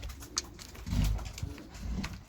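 Pigeons coo in a breeding loft, low repeated throaty coos from several birds, close and continuous, with soft rustling and a light background hum.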